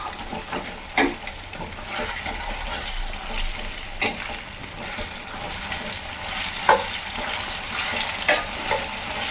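Ridge gourd curry being stirred in a pan, with a steady sizzling fry throughout and several distinct scraping stir strokes of the spoon against the pan at irregular intervals, no voices.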